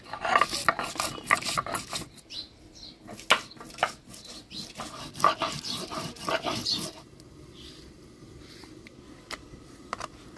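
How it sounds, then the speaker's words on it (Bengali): Ginger, cumin, coriander and green chilli are ground together on a stone in repeated rough, rasping strokes, loud and busy at first and then thinning to a quieter, more sporadic scraping. "মাছের ঝোলের জন্য আমি আদা, জিরা, ধইনা, কাঁচা লঙ্কা একসাথে বাইটে নিব"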